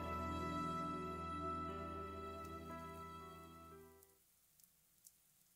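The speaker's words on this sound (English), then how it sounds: "I wake to the sound of rain." Steady rain falls in Fate/Stay Night Remastered, a dense even hiss layered under a soft music bed that fades out, leaving a few faint scattered drips near the end.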